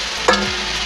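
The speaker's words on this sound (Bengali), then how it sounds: "এখন আমরা এই যে ভাজা পেঁপে আর আলু দিয়ে দেবো" Fried papaya and potato pieces drop into a pan of sizzling spice paste made with cumin, coriander and ginger-garlic paste. A single brief clunk is followed by a short stir over a steady frying hiss.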